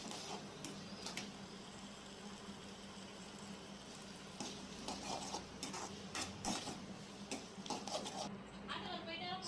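Potatoes with turmeric being stir-fried in a pan on a low flame, with repeated clattering scrapes of a spatula, soft sizzling underneath and a few sharp metallic clicks, close and fairly quiet.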